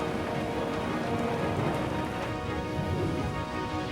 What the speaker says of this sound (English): Driving through blinding rain and blowing debris, the Owens reach the safety of the church.